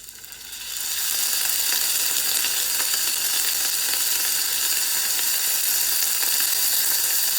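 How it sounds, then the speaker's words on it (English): Worcestershire sauce hits cooked-down vegetables in a hot pan, bursting into a loud, steady sizzle that swells within the first second and holds evenly to the end. "So we're gonna throw a little Worcestershire in on top of them"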